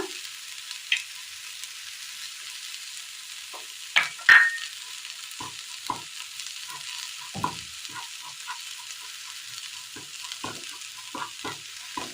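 Chilli powder, turmeric and garam masala fry in coconut oil in a pan, giving a soft steady sizzle broken by scattered scraping stirs and a brief louder clatter, with no talking.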